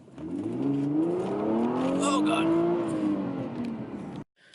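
A 2008 Infiniti G35 sedan accelerates hard at full throttle, its engine note climbing steadily in pitch through the rev range, loud and close from inside the cabin, with a brief exclamation from the driver over it before it cuts off abruptly.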